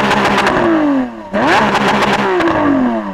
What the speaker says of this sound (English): Rev up your car. I want to see if it sounds any different